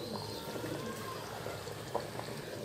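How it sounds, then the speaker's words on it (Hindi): Water is poured steadily onto rice in a cooking pot while making mutton tahari, a continuous close pouring and splashing wash with no talking. "और पानी डालेंगे चावल का डबल"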